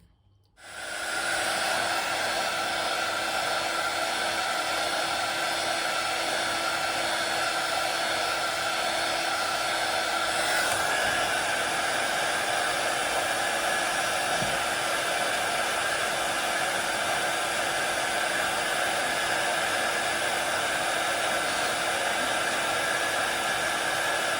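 A heat gun blows on the sole of an Air Max 1 sneaker during a midsole swap, a steady, loud, continuous whooshing hiss that runs unbroken after switching on.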